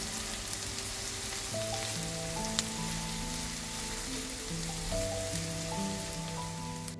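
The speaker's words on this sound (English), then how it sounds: "Look at those onions sautéing, so beautiful." Onions sautéing in a pan give a steady, even sizzle and crackle throughout, with soft background music layered over it and no one speaking.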